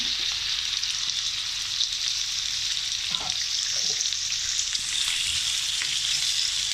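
Onion and chicken liver fry in a pan with a steady, dense sizzle close by, broken by a couple of brief stirring scrapes partway through.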